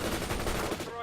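In World in Conflict, a quick burst of rapid gunfire rattles close by for about a second, dense and loud before cutting off.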